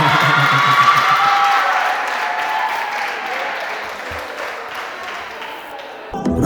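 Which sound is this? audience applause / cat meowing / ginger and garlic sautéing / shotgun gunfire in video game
audience applause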